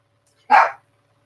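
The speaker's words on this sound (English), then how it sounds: "I made the dogs bark." A dog at home gives one short, loud bark close by. Silence comes before and after it.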